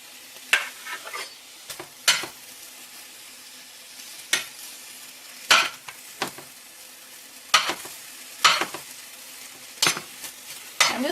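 Onions frying in a pan for steak subs, a quiet continuous sizzle broken by a dozen sharp scrapes and clacks of a utensil stirring at irregular intervals.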